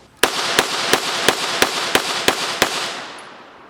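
A Beretta APX A1 pistol fires eight loud, crisp shots at an even, rapid pace, each sharp crack trailing into a brief echo that fades out after the final round.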